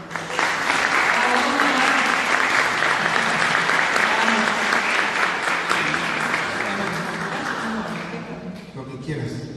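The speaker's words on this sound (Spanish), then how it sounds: "Vamos a pedir un aplauso para la jefa." Warm applause from an audience at a guarania music night at the Musicians' Association of Paraguay, steady and full for several seconds before thinning out at the end, with voices mixed in.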